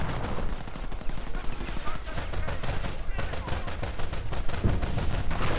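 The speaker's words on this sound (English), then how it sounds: "17-pounder gun continually opening up on those chaps inside the building" Continuous gunfire and rapid machine-gun bursts from a WWII strategy game battle with 17-pounder guns and tanks, dense overlapping shots throughout, with a commentator's voice talking over the din.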